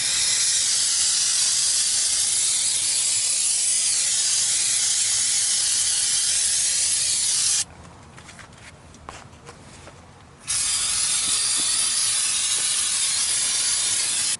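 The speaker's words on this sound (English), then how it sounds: "I like to just go over everything with some brake cleaner first." Brake cleaner sprayed over the front brake assembly of a Chevy Impala, a loud, continuous close hiss lasting several seconds that breaks off briefly and then resumes. No one speaks.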